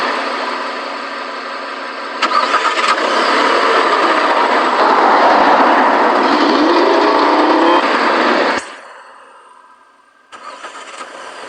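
A bus pulls in with its engine running loudly and steadily, a broad rumbling roar that cuts off sharply and then resumes, heard close with no talk.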